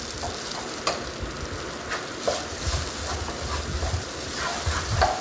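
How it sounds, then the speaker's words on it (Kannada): Chopped okra (lady finger) frying in a pan for masala sambar, a steady sizzle broken by scraping stirs and occasional clacks of the spoon against the pan. "ಅದಕ್ಕೆ ಚೆನ್ನಾಗಿ ಹುರ್ಕೋಬೇಕು ಬೆಂಡೆಕಾಯಿನ."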